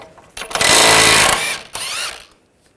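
Power tool driving an 18mm socket on a sway bar link nut of a BMW 550i during rear suspension work, two loud close bursts of buzzing whir, the first longer, then a second shorter run.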